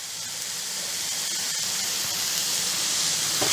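Chopped garlic frying in a pan for a creamy chicken Alfredo pasta, giving a steady, close sizzling hiss that builds slightly louder over a few seconds, with no talking.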